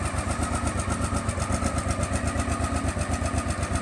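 Honda Africa Twin 750 RD04 motorcycle engine, cold, running just after starting: a steady, close, loud rapid thumping idle with even pulses throughout and no voices.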